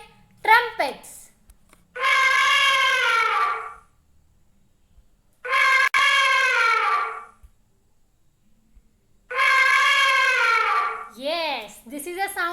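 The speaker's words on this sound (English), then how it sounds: "Yes, this is a sound of an elephant." Elephant trumpeting: three long, loud, brassy blasts spaced a few seconds apart, with short bits of voice near the start and end.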